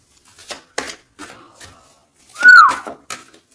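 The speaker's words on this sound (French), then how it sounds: "Non, c'est pas bien siffler, pardon." A person whistles one short rising note among clicks and soft scattered noises, close and brief, with no talk over it.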